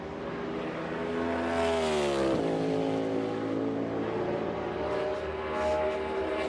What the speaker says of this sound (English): There's a downshift once,